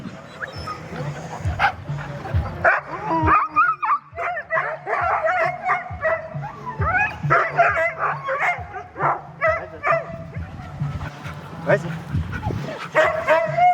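Sled dogs being harnessed yip, whimper and bark excitedly over and over, fairly close, with a person talking through much of the commotion.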